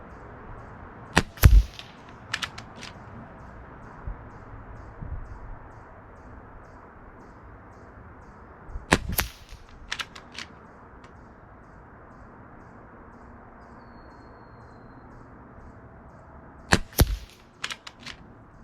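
Three sharp, close shots from a Gamo Arrow Classic .22 air rifle at target practice, each a crisp crack with a quick metallic after-clack, spaced several seconds apart over a quiet outdoor background.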